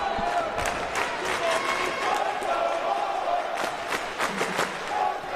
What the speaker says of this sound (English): You can hear the Purdue crowd kind of trying to get in the head of Butler serving